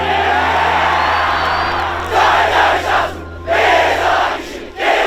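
A rugby team performs its war cry before the crowd, a chanted group shout in three loud bursts with short pauses between, over a low, constant stadium hum.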